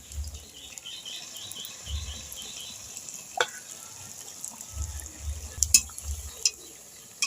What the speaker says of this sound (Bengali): একই কড়াইয়ে 4-5টা পিঠে ভাজা যায় বন্ধুরা